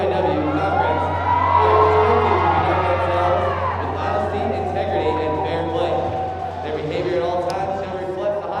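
A crowd at a women's college basketball game cheers and whoops, loud and sustained, with shouting voices mixed through the noise.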